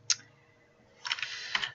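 Spreadsheet headings are typed on a computer keyboard: one sharp click, a short pause, then a quick burst of several keystrokes close to the mic, with no talking.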